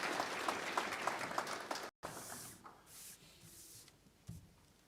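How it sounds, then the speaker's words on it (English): Applause at an inaugural council meeting for people in the galleries, fairly quiet and lasting about two seconds before an abrupt cut, followed by faint rustling and scattered soft sounds. "Let's give them a hand of applause also"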